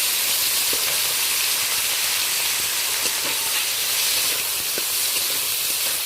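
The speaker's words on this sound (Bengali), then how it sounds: "তেলটা বেশ গরম হয়ে গেছে, কেটে রাখা পেঁয়াজ আর টমেটোটা তুলে দিলাম।" Chopped onion and tomato hit hot oil in a pan, a steady, loud broadband sizzle and hiss that holds for the whole stretch with faint clicks of stirring, no voices.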